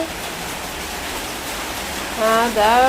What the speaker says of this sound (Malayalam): മഴ എത്തുവന്നേക്കണ്